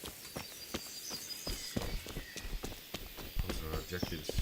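Horse hooves clip-clop in the medieval video game Kingdom Come: Deliverance, a rhythmic run of close knocks mixed with game ambience and voices talking over it.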